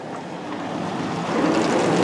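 Ryko US2001 overhead automatic car wash spraying water over a car, a steady close hiss and rush that swells slightly toward the end, with no voices.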